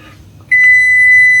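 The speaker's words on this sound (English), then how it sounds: "Something's beeping at me." A single sharp electronic beep starts abruptly and holds as a steady, loud tone for about a second.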